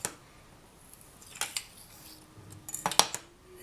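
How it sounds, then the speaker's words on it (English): Scissors trim excess material from a faux snowflake obsidian necklace, giving a few soft, close snips and light crisp clicks scattered across a short, quiet stretch. "Then I'm just trimming away the excess."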